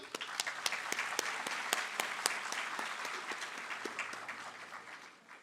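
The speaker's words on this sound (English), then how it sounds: "A huge round of applause for all of them." An audience applauds welcomed guests at a leadership talk by India's Election Commissioner: continuous, even clapping with crisp individual claps standing out, heard from some distance and fading slightly at the close.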